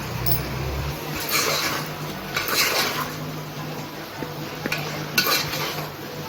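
Ingredients for sambar frying and being stirred in a pan, with a steady soft sizzle and occasional scrapes and clinks of a utensil against the metal, close and moderately loud, no talking.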